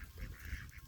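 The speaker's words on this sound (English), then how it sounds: "I'm not sure if this is a goose or a gander" An injured domestic goose gives a short, nasal honking call, close and clear with no other sounds around it.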